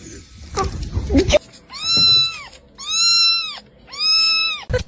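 A cat lets out three drawn-out meows in a row, each clear and close, following a burst of bumping and clattering at the start.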